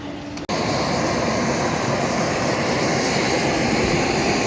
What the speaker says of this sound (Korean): 비행기가 너무 작아서 어, 사람도 많지 않습니다. 게다가 프로펠러 비행기입니다.